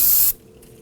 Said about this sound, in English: Spray it down with some spray solvent.